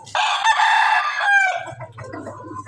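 A rooster belts out one loud, close crow that trails off, followed by lower clucking from chickens kept on a mountain farm.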